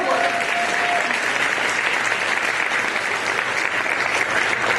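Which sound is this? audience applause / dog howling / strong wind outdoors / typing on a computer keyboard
audience applause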